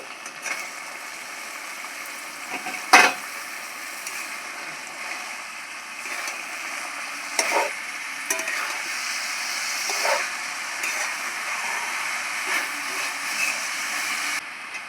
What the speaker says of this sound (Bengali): মশলাটা খুব ভালো করে কষিয়ে নিয়েছি সেদ্ধ করা মোচাটা দিয়ে দিচ্ছি